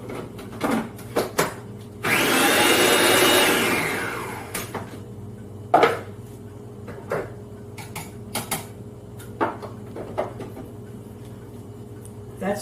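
Strawberries for strawberry jelly being chopped in a kitchen, a loud whirring burst of a few seconds followed by scattered sharp taps and clicks against a quiet background.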